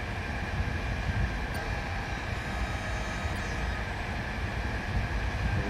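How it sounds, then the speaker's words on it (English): A Pendolino train passing in the SimRail rail simulator, heard as a steady, loud rolling rumble with a constant mechanical whine throughout, no talking. "it's oncoming Pendolino"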